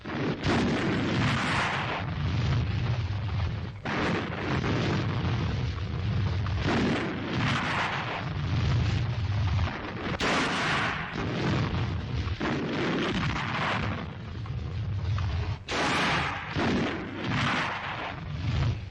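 Enemy artillery shells from a WWII newsreel battle slam down in dense, repeated booms and explosions, with thunderous impacts rolling one into the next across the whole stretch and sharper blasts breaking out at intervals.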